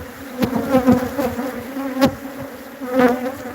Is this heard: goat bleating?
no